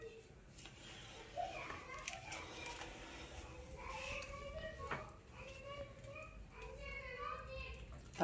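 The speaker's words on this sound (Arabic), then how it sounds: "طلع صوت الولاد" Children's voices chatter and call out faintly in the background, a distant, continuous murmur of kids playing indoors at a low level.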